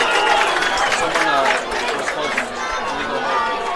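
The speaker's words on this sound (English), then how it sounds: "So you hear the hometown crowd." A hometown crowd at a high school football game between Clovis West and Turlock roars and chatters in the stands, a broad, moderately loud swell of voices that eases slightly after the first couple of seconds.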